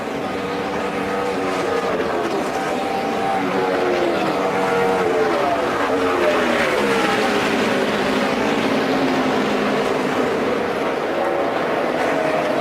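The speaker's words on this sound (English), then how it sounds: "Jeff Gordon leading the race" NASCAR stock cars roar through the final lap at Homestead, a loud continuous engine drone rising and falling as they pass, with a commentator talking over it.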